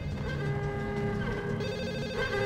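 A telephone rings in Max Payne, a bright electronic trill that warbles in quick bursts, loud and near, repeating across the moment with no voices.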